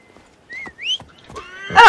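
A horse in Assassin's Creed Origins lets out a clear, close whinny, followed by a short burst of hooves and movement at the end.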